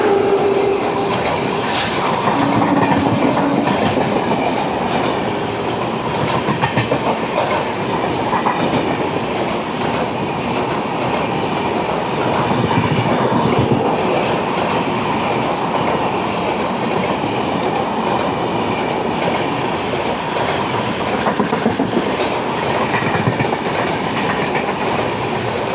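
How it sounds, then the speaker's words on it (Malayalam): A train passes on the opposite track at a platform in Thane, a loud, continuous rumble and clatter of wheels and carriages that holds steady for nearly half a minute, close by, with no talk over it. "അപ്പോൾ ഓപ്പോസിറ്റിൽ അതിൻ്റെ ട്രെയിൻ വരുന്നുണ്ട്."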